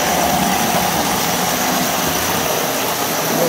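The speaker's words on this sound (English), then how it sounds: "You can kind of hear the growling of the twin motors in this diesel engine." Steady low growl of a 1953 Lionel postwar diesel model train locomotive with twin motors and magne-traction, a continuous close whirring hum without pauses or talk.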